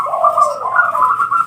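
A zebra dove (perkutut) cooing, a clear, steady, mellow call with a slight rise in pitch partway through, close and loud with no other sounds.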